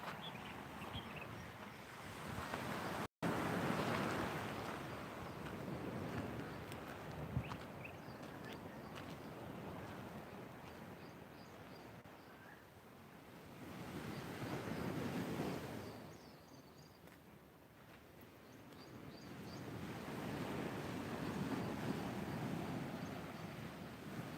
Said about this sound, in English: The ocean breeze.